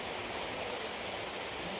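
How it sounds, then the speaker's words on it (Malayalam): Steady rain pours down at a roadside bus stop in a village near Kozhikode, a dense, even hiss of falling water that holds constant throughout with no voices. "ഞങ്ങൾക്ക് മഴ കിട്ടി ഗൈസ്."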